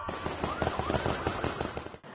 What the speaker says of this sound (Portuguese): Houve troca de tiros.